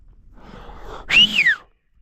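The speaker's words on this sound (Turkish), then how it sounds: "Şöyle bir ıslık çalalım gelsinler." A single loud, short human whistle sliding downward in pitch, preceded by soft breathy noise and followed by silence.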